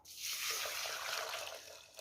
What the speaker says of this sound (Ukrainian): Я тільки от гаряча-гаряча вода. Запарю гарячою водою.